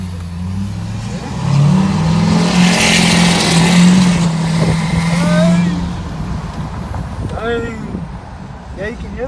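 A 2015 GMC truck with a turbo and straight pipe accelerates hard with a loud, rising exhaust roar that holds and then fades as it pulls away, while voices talk over it.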